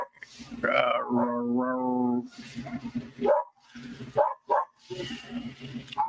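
A dog barks and yelps in a run of loud, close calls, with a drawn-out whining cry near the start and sharper barks after it.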